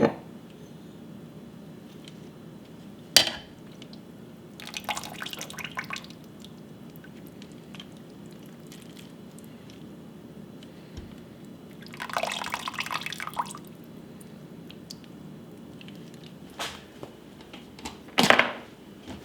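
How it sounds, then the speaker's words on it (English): Turkey breast cooking juices pour from a slow cooker in a few short bursts separated by quiet pauses, with occasional sharp clinks and drips in between. "Now let's pour off the juices, and we can save those for our gravy."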